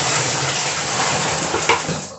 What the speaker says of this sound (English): I'm going to put the water in next